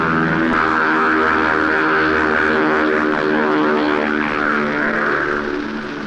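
A P-51 Mustang propeller fighter drones loudly and steadily, its piston engine giving a rich harmonic roar that holds for several seconds, close and unbroken.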